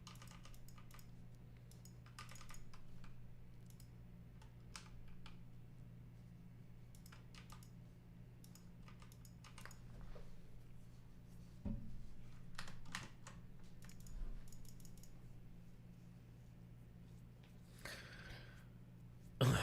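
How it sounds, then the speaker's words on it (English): Computer keyboard typing clatters in quick irregular bursts of key taps, close and fairly quiet over a steady low electrical hum, with brief pauses between runs. "I'm typing in chat."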